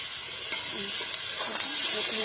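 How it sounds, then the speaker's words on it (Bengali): Stalks coated in spice paste sauté in a pan, with a continuous loud hiss and a few sharp clicks from a stirring utensil in a short stretch. "মশলা দিয়ে ডাটাতে আমার কষানো হয়ে গেছে"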